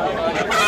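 Aseel rooster at a flooded livestock market gives a brief, loud, harsh squawk lasting under a second, close to the listener, with voices in the background.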